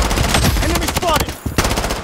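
Rapid automatic gunfire in the mobile shooter Blood Strike, loud and close, bursts of rattling shots running almost continuously with a short gap near the end, under game sounds.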